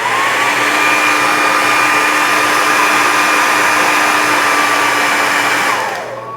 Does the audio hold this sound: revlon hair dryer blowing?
yes